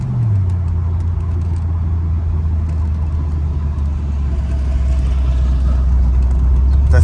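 A numbers-matching 1972 Chevrolet Corvette C3 on the road, its engine a steady low rumble heard from inside the cabin, continuous and fairly loud with a slight rise toward the end.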